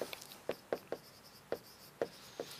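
Chalk writing on a classroom board during a Hindi grammar lesson: a quick run of about ten crisp taps and short strokes in an uneven rhythm, close and distinct over a quiet background.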